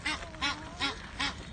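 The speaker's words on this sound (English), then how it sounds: "I saw a Canadian geese, so there's 6 geese. There are 22 chicks between them." Canada geese honk at a beach in four evenly spaced calls, moderately loud and close, with a noisy outdoor background.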